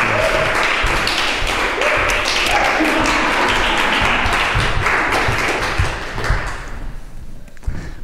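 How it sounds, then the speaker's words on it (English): Audience applause for a performer at a live work-in-progress theatre event, a dense wash of clapping with some taps and thumps that holds steadily for several seconds, then thins and fades toward the end. "Can we give Tochuku one more round of applause?"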